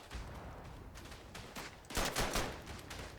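Rifle fire rings out in the World War I shooter Verdun, a rapid burst of several overlapping shots clustered midway through, set against a dense, noisy battlefield background with no voices.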